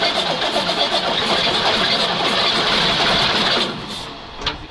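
Praga V3S 6x6 truck, an old diesel long stuck in the ground, cranking and catching into a loud, rough, continuous run close by, its noise cutting back sharply near the end, with no talk over it.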